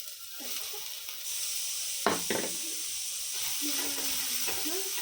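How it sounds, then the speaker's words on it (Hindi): Green chili, garlic and ginger roasting in a little oil in a pan, a continuous close sizzle and hiss with a couple of scraping stirs and a faint voice in the background. "अभी मिर्ची, लहसुन और अदरक भुनेंगे।"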